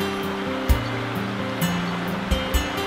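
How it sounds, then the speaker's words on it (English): Rushing water from the 90-foot White Lady Waterfall in Lydford Gorge, Devon, roars steadily, a continuous loud wash with a few brief surges. "The path leads to the spectacular 90 foot high White Lady Waterfall."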